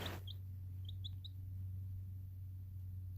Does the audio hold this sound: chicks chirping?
yes